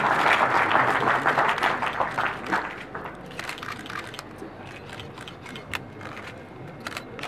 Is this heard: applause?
yes